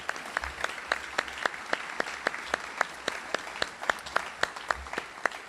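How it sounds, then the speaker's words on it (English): Slow, sparse claps ring out at a steady pace in a large space, faint and distant, as an audience at a Navy change of responsibility ceremony applauds Captain Pete Graff. "Let's please a round of applause for Captain Pete Graff."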